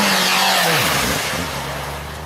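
A Volkswagen up! with a three-cylinder TSI engine in Stage 3 tune revs hard, a loud, close engine note that climbs then drops back as the throttle is released.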